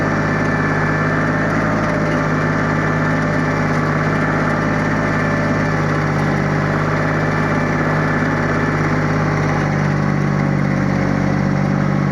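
Dongfeng 244 tractor pulling a homemade plough through a field, its engine droning at a steady loud pitch up close for the whole stretch, with no talk.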